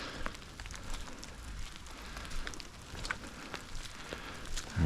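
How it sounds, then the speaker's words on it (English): Raindrops patter softly and steadily on leaves in a forest, a light, continuous ticking with occasional nearer drips against a quiet background. "capturing the raindrops on the leaves and stuff is something I'm curious."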